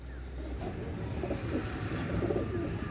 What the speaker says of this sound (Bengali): একজোড়া সাকি ব্লাডের কবুতার আপনারা লক্ষ্য করেন অনেক সুন্দর সাকি কবুতার